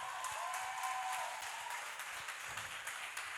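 Audience applauding for the mayor at a worship and praise concert, a steady quiet patter of clapping from a crowd held at an even level, with a faint sustained tone showing briefly early on.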